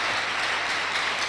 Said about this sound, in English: Clap hand for Jesus